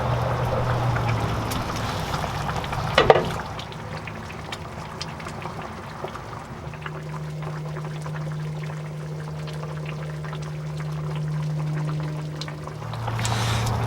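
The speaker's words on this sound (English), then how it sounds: "Okay, good 5 minutes now boiling this soup." A pot of sour bamboo soup with pork bubbles and simmers at a low, steady level, with a brief clatter partway through and a faint hum underneath.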